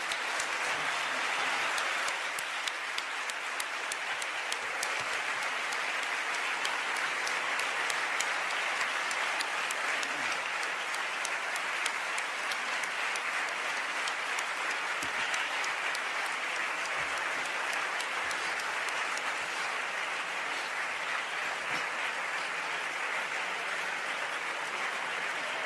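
Sustained, loud audience applause at a lecture, dense steady clapping continuing for roughly twenty-five seconds without letting up.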